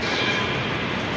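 Rumble of a Mumbai metro train carriage in motion, a steady broadband roar filling the whole moment with no pauses or distinct events.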